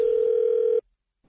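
A steady telephone dial tone plays loud and alone for under a second at the start of a radio prank call, then cuts off into silence.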